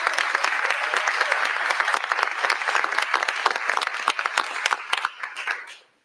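An audience at a mayor's press conference applauds to welcome a speaker to the podium: dense, steady clapping from a crowd, fairly close, that holds for several seconds and then tapers off quickly.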